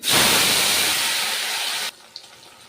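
Raw potatoes dropped into hot oil in an Indian pan with mustard seeds and asafoetida set off a loud, hissing sizzle that bursts up and holds steady, then cuts off sharply, leaving a faint background and one small clink.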